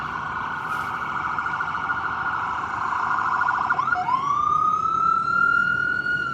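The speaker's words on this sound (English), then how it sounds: "Oddly enough, I hear sirens." An emergency vehicle siren on the Las Vegas streets wails steadily at moderate distance, then shifts into a rising, sweeping tone that grows louder toward the end.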